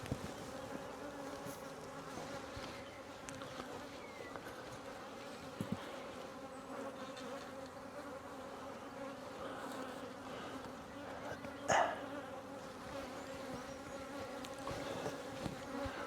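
Honeybees swarm around an open hive in a steady, close droning buzz that rises and falls slightly as individual bees pass near, with a brief knock partway through.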